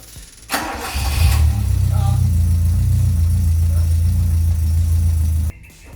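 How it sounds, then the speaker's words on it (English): A Toyota Corolla KE55 engine, freshly rebuilt with a new head gasket and valve stem seals, cranks briefly, catches and settles into a steady, solid idle, close by and loud. "Let's start the car for the first time after the head's in it and see if we don't blow anything up."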